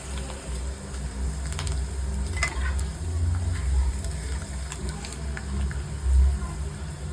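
Papad frying in hot oil, a steady close sizzle and crackle running throughout at moderate loudness, with faint clinks from a utensil.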